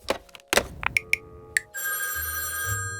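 A phone rings for an incoming call on the Orca phone, a few short bell-like chirps followed by a steady sustained electronic tone, fairly loud and close with no voices.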